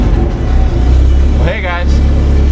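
A car engine revs up toward a shift light set at 2000 RPM, a steady loud idle-to-rev drone with a brief rising whine near the middle.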